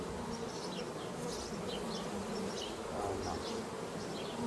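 A dense, continuous buzz of many honeybees fills the air, with individual bees droning past close by.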